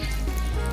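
Chicken pakodi batter fries in hot oil with a dense, steady sizzle, loud and close in a very brief burst.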